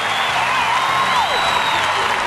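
A gymnastics arena crowd at the 2007 NCAA Super Six applauds and cheers loudly, a dense steady wash of clapping with whistles and whoops running throughout.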